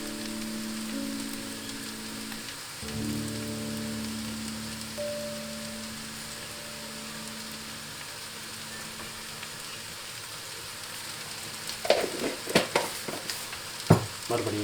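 Brinjal moju being stirred in a pan with chili powder and salt, a steady soft sizzle under a low hum, then a burst of sharper scraping and clattering stirs near the end.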